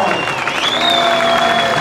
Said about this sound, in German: Liebes Publikum, nochmal ein riesen Applaus für die Kieler und Corona